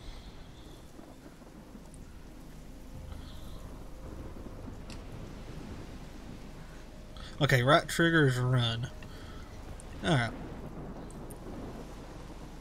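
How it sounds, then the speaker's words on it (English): In the video game Life is Strange, a thunderstorm grumbles and rain hisses as a low, faint, steady backdrop, and someone talks briefly over it partway through. "That's a big ass storm."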